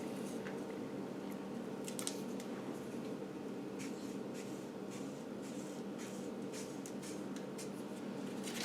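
A marker or scribe dragging across sheet steel while marking a cut line for a Land Rover 109 footwell repair, heard as faint, intermittent scratchy strokes over a steady background hiss.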